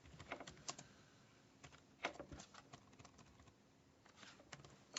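Fingers tap on a small Color Computer keyboard, quiet irregular key clicks in short bursts with occasional louder presses, heard alone at low volume.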